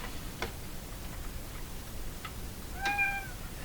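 Domestic cat meowing indoors: one clear, drawn-out meow near the end, preceded by a few soft clicks and taps against a quiet room-noise background.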